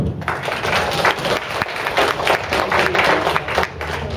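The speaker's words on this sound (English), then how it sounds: "Round of applause." Audience applause closes a debate review at a 2012 summer league session, a steady dense wash of many hands clapping at moderate distance, holding evenly throughout with no talking over it.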